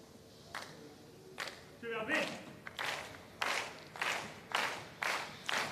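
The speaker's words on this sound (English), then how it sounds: "You can hear the partisan crowd." A partisan crowd at a padel match at a Swedish tournament: a burst of cheering and rhythmic clapping builds up and continues in steady pulses, faint and distant behind a commentator talking.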